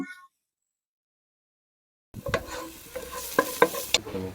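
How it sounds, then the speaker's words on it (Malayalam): Onions sautéing and being stirred in a pan for cauliflower biryani, entering after a silent stretch with soft sizzling and a few sharp scraping clicks of a utensil against the pan. "അതിനിടയ്ക്ക് നമ്മൾ സവോള ചേർത്ത് കൊടുത്തിട്ടുണ്ട്. ഇനിയിപ്പോൾ അതൊന്ന് വഴറ്റിയെടുക്കുകയാണ്."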